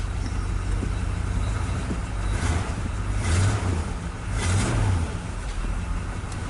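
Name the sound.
1965 Chevrolet engine idling after years sitting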